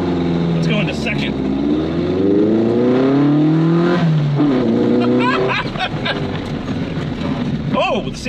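An old car with a fuel leak accelerates on a test drive, its engine note climbing, dropping as it shifts into second gear, then climbing again, loud and close with wind buffeting the microphone.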